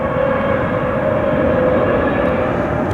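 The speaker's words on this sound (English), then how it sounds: "Airbus A321neo heading to Phoenix, Arizona" An Airbus A321neo airliner departing Cleveland Hopkins airport roars as a loud, steady engine drone with a sustained whine, close and unbroken for a few seconds.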